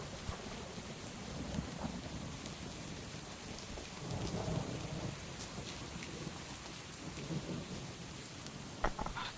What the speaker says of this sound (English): That thunder? Guess it's a thunderstorm.